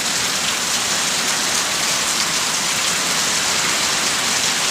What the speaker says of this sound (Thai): พายุฝนเวลานี้นะครับ